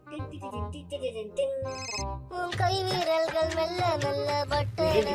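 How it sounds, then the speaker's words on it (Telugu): A phone ringtone plays a repeating electronic melody, loud and close, with a voice briefly speaking over it. "ఫోన్ చేస్తున్నాడు."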